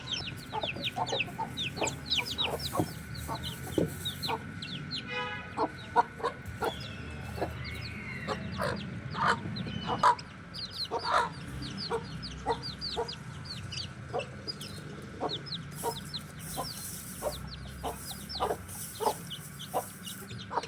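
Backyard hens clucking steadily, with many short clucks and calls overlapping close by and a few louder squawks over a busy farmyard background, with no talking.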